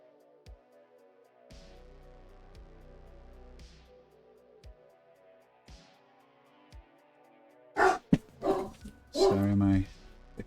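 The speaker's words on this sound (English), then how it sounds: "Sorry, if you hear my dog barking." A dog barks indoors: a quick burst of several loud, close barks near the end, after a quiet stretch with only faint soft taps.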